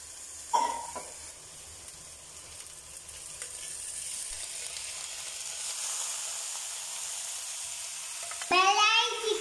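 Sliced onions and curry leaves fry in a pan for beef, giving a steady, soft sizzle throughout, with a sharp clatter near the start and a brief high voice at the end.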